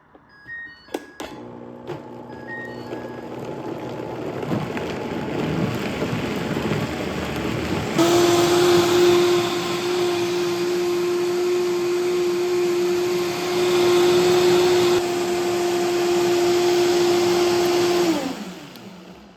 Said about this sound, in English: you blend it thoroughly till you've got a creamy consistency